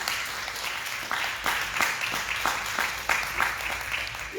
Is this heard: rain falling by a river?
no